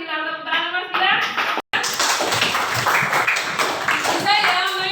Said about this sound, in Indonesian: terima kasih Mas Gilang, tepuk tangan Mas Gilang